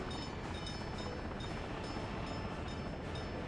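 A train runs in the video game Workers and Resources: Soviet Republic, a faint, steady rolling rumble with periodic light clicks of wheels over rail joints.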